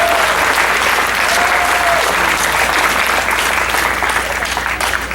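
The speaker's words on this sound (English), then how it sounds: "So give them a nice round of applause, please." A room full of people at a fundraising gala claps loudly and continuously, a dense, even wave of applause that barely fades.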